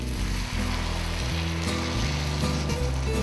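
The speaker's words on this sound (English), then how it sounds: "we're now going to deglaze with a white wine" White wine hits a hot pan to deglaze it during Campania-style Italian cooking and sizzles in a steady, continuous hiss beneath a low background hum.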